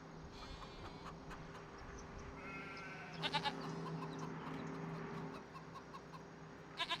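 Goats on a farm in the Farming Simulator 25 video game let out several short, faint bleats, with insects and soft farmyard ambience running steadily beneath.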